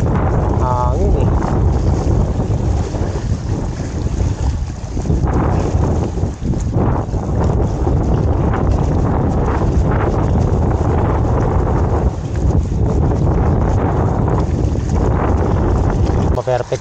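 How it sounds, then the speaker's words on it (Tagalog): Strong wind roars and buffets close to the microphone without letup during baitcaster casting practice, with someone talking intermittently beneath the gusts. "Hangin eh."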